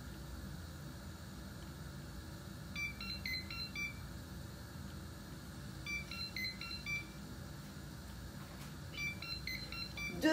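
A kitchen pot timer sounds in short repeated beeping bursts, three groups spaced a few seconds apart over steady background hiss while a tomato curry chicken cooks on the stove.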